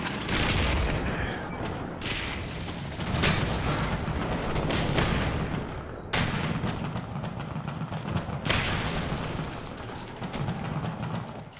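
Heavy gunfire from War Thunder combat rumbles continuously, with sharp booming shots standing out at intervals over a dense, loud background of engine and battle noise.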